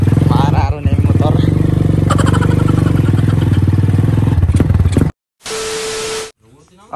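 A motorcycle ridden along a slippery road puts out a steady, close engine drone for several seconds, with voices over it, then a sudden cut to a brief burst of hiss and a tone.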